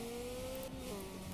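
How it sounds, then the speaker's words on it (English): Engine of a car in the racing video game Tokyo Xtreme Racer, played in virtual reality, hums with a steady low drone as it's revved, holding a fairly constant pitch under quiet background noise. "Give it some revs."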